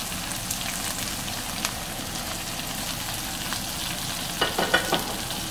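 Two large chopped onions frying in oil for potato masala, giving a continuous soft sizzle and crackle close by with a few brief stirring clicks near the end, no speech.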